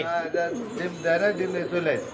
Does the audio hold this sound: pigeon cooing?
yes